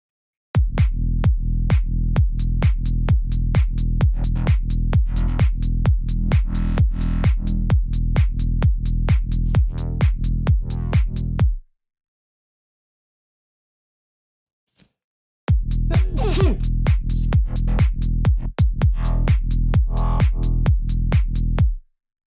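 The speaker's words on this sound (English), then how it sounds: "I decided that I'm pretty sure I would use a reverb filter" A psytech synth line plays fast, evenly pulsed notes with a deep bass body, then cuts out for a few seconds of silence before returning with a brighter, swirling reverb-washed tone.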